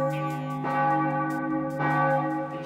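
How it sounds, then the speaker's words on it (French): Church bells of Notre-Dame ring out loud and close, their strokes sustained with rich ringing overtones and a renewed strike partway through, with no voices present. "c'est vrai que les cloches de Notre-Dame sonnent toujours à l'heure pile"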